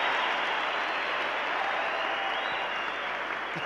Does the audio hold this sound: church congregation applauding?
yes